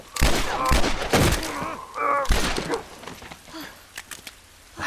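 Gunshots in The Last of Us ring out in a few sharp, loud cracks spaced a second or so apart, with scuffling movement and game sounds between them.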